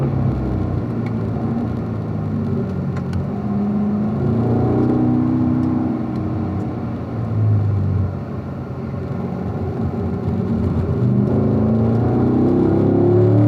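A car lapping the Ron Fellows Springhill race track, its engine droning and revving up and down through gear changes and braking, a continuous close mechanical whir with no talk.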